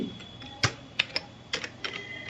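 Light, irregular keystrokes tap on a computer keyboard while text is entered into an MS Word document, close and quiet in a still room.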